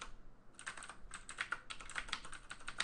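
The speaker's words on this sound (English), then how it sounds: "I need to get a quieter keyboard." Rapid clicking of a computer keyboard being typed on, soft and fairly close, in steady bursts with a short pause, no talk over it.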